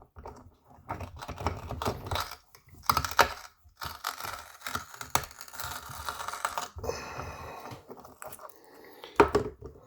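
A rock trimmer cutting the excess rock off a hard rock quartz gold specimen, giving irregular sharp cracking and crunching snaps in quick clustered bursts, close and fairly quiet, with no talking.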